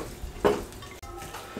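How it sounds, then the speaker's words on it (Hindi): Ginger, garlic powder, crushed chili and salt stirred together in a bowl, giving a brief scrape and clink of a spoon against the bowl followed by softer mixing, close and alone. "इसको अच्छे तरीके से मिक्स कर देंगे।"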